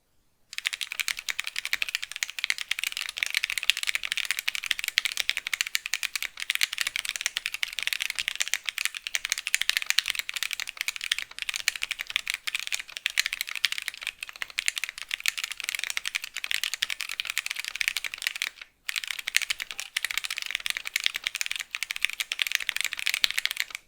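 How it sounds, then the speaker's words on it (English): Steady, fast typing on a mechanical keyboard fitted with stock Okomochi tactile switches, with dense, even keystrokes running close and loud for the whole stretch and only a brief pause near the end. "the stock experience of these switches, yeah, they're pretty tactile"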